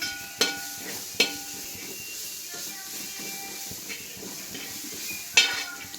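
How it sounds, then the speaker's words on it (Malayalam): Spices for a mayonnaise chicken dish sizzle steadily in a pan while a utensil stirs them. Occasional sharp metallic clinks of the spoon against the pan cut through the soft, continuous frying hiss. "അത് നന്നായിട്ട് ഇതിൽ യോജിപ്പിച്ച് ഒന്ന് മൂപ്പിക്കാം പച്ചമണം പോണ വരെ"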